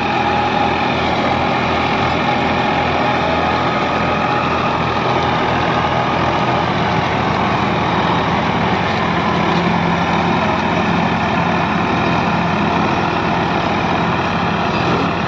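Two Massey Ferguson tractors, an 8055 and a 245, run together with rotavators attached, giving a loud, continuous engine drone with steady mechanical churning throughout and no voices.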